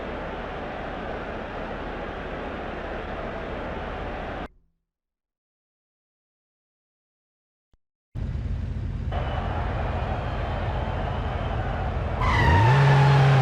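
A stunt car in the PS2 game Stuntman roars toward a cannon ramp, its engine droning with tyre skids. The sound cuts to silence for a few seconds, then the engine returns and rises into a louder rev near the end.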